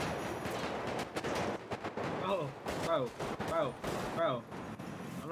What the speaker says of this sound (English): they're shooting back, bro